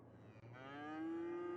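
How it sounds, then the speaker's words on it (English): Cow mooing in a city-building video game, one long rising moo that swells in loudness, heard close and clear with no talking. "Oh, there's some cows. You hear them."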